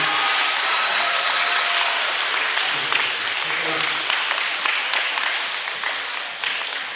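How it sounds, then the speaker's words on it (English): Sustained applause from an audience at an elementary school assembly, dense clapping that stays loud throughout and tapers slightly near the end. "let's give a big round of applause to my demonstrators"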